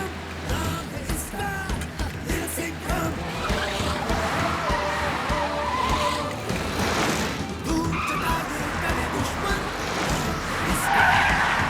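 Cartoon car from a Hindi kids' animation zooming along with skidding, tire-squeal effects and croaky sound-effect noises over busy background music, continuous and fairly loud throughout.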